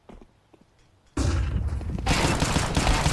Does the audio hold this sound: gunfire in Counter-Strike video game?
yes